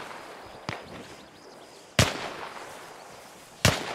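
Three sharp, isolated gunshots spaced a second or more apart in ARMA Reforger, sounding fairly distant over a quiet background, with no talking.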